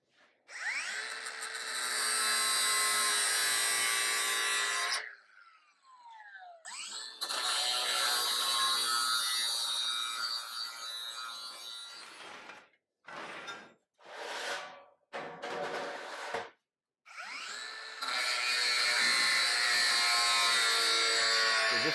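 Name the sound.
power tool cutting through sheet metal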